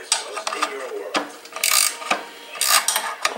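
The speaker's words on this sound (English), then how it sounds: "Real-time bushing removal." A ratchet wrench cranks on a trailing arm bushing of a 1968 Triumph TR250, giving rapid clicking ratchet strokes in repeated bursts with scraping metal between them, up close, with some faint talk.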